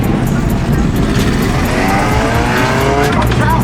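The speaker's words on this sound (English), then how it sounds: "That is a regular car." At a nighttime car meet, a car engine drones and revs loudly and up close while tires faintly squeal, with people talking over the steady motor noise.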